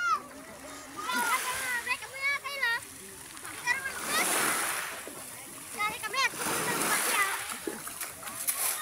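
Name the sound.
child splashing in water while learning to swim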